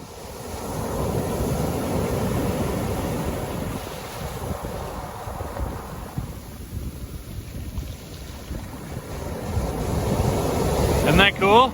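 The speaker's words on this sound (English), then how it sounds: "Listen when the waves go back out. All the little rocks make their own little crashy wave sound." Waves wash back over a pebble beach in New Zealand, a steady rushing hiss with wind buffeting the microphone and a rattling drag of small stones, loud and close throughout.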